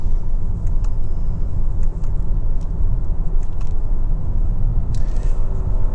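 Engine and road rumble inside a 2024 Hyundai Santa Fe Calligraphy 2.5T AWD accelerating in a manually selected lower gear, a steady loud low drone with faint clicks above it and no talking.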